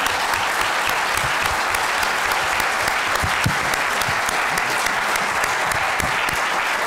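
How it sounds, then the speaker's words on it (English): Sustained applause from a town hall meeting audience for the panelists, dense rapid clapping holding at an even loud level throughout. "So can we give our panelists a round of applause,"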